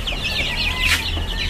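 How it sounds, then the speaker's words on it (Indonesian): Bangkok chickens in a backyard coop cluck and chatter in short, soft bursts at close range, a faint low hum running underneath. "ini ayam Bangkok semua"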